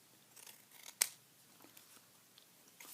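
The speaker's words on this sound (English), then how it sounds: "These scissors are too hard to cut with." A single sharp snip of scissors cutting paper coupons, close and crisp, with faint paper rustling around it in an otherwise quiet setting.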